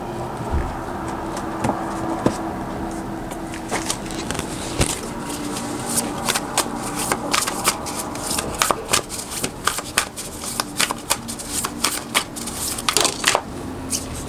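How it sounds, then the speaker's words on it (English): Oracle cards being shuffled by hand during a card reading, a dense run of crisp papery riffles and snaps that grows busier and louder toward the end, with no talk over it. "we're gonna pull your animal oracle card now"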